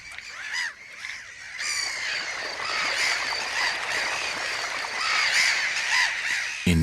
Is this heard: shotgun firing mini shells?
no